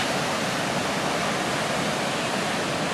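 A waterfall roars as a steady, loud, broadband rush of falling water, heard nearby from the falls' overlook area, continuous and unbroken with no voices.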